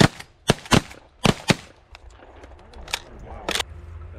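Several sharp shotgun blasts during a pigeon hunt over a field feed, crisp and close at irregular spacing, followed by fainter distant shots and quiet outdoor background.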